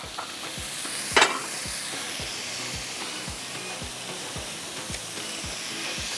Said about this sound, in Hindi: ये कीमा, इसको मैंने इस तरह से थोड़ा सा पकाना है